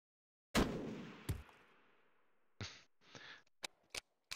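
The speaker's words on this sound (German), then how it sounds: "Der hat sich gelöst, der Schuss." A single accidental gunshot fired in the tactical game Jagged Alliance 2, a sharp loud crack with a decaying tail, followed by a second bang and later a few scattered clicks and metallic interface clanks.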